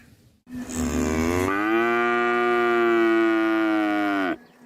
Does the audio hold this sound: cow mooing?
yes